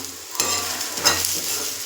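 Ingredients for an okra sambar sauté in a pan, giving a brief close sizzle with two quick stirring scrapes on top, with no talk.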